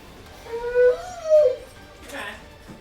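A dog that wants to go outside whimpers up close, giving two rising and falling whines followed by a shorter yip.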